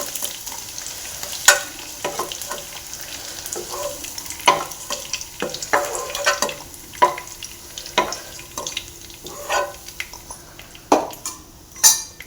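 Cashews and paneer fry in a pan, a steady close sizzle broken by repeated sharp clinks and scrapes of a spoon stirring against the metal, with no voices.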